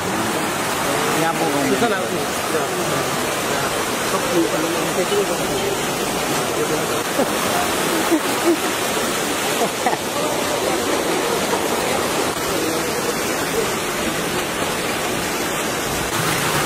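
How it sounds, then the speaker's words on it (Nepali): A mountain stream rushes through a water intake site in a steady, loud, continuous roar, with voices talking over it. "पानी यत्रो आउँदो रहेछ यहाँबाटै"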